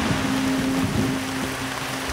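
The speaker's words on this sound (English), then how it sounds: "It is pouring rain" Torrential rain pours down steadily outside a wilderness survival shelter, a dense, unbroken hiss with a faint low hum running through it and no voices.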